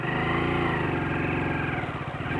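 Motorcycle engine in second gear straining up a hill, loud and close with a steady throaty revving drone and pulsing firing rhythm that wavers as the throttle is pulled harder.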